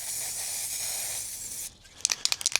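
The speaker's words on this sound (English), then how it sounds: "God, this spray paint is not amazing." An aerosol can of spray paint hisses steadily for over a second while marking ground lines on a workshop building site, then gives several short rhythmic spurts, each one close and fairly quiet.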